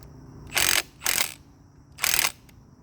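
Power tool loosening a car flywheel bolt during engine removal: three short, loud bursts of whirring ratchet-like rattling, separated by brief pauses, close by with no talk.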